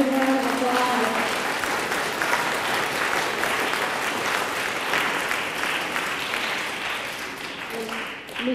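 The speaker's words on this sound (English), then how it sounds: "Let's give her a big round of applause." An audience at a school district spelling bee gives a sustained round of applause for a school administrator. The dense clapping fills the room steadily for several seconds and tapers slightly near the end, with a voice faintly audible at the start.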